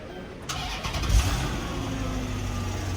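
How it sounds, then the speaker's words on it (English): A car engine cranks and catches at about half a second, then settles into a steady rumbling run, close and fairly loud, during an emissions check with readings taken before and after the catalytic converter. "So now we're going to start the car and start the timer."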